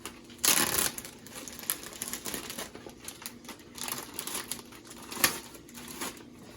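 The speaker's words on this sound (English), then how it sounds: "gotta figure out how to open this. It's a Ziploc bag" A plastic Ziploc bag being opened at close range, giving short crinkly rustles and crackles with a louder burst near the start, then scattered lighter handling noises.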